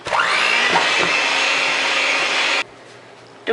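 Electric mixer blending cupcake batter in a bowl, a steady loud whir running close for over two seconds before cutting off abruptly, leaving quiet kitchen background.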